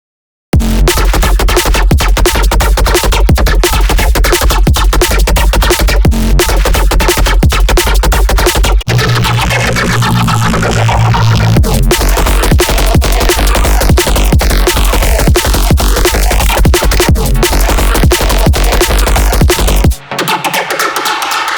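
Aggressive, gritty neurofunk bass synth made in Serum 2, plays loud and continuously over driving drums, with growling modulated textures shifting through the phrase before cutting off abruptly.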